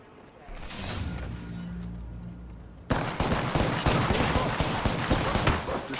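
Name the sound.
gunfire in video game Apex Legends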